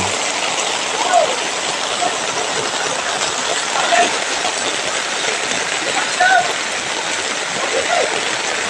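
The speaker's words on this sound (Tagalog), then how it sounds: "Lakas-lakas ng ulan." Steady, dense wash of heavy rain hissing without pause, with a few faint higher chirps poking through the downpour.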